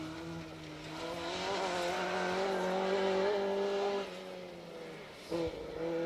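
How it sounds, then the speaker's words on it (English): A rally car on a stage roars past at a distance with a rising engine note, under steady crowd and ambient noise, then a brief sharp burst near the end. "Little lock up and some understeer from Wyn Hughes"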